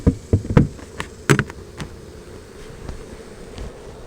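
Honey bees buzz close around a struggling hive as it is reduced before the fall flow, with passing drones of flight mixed with a few sharp taps on the woodenware.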